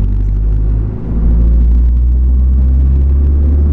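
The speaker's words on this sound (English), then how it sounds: "This is the tiny little bit of wastegate chatter from the turbo." Renault Clio Turbo engine under load, heard from inside the cabin as a loud, steady low rumble with a short dip, with only a faint hint of turbo wastegate chatter.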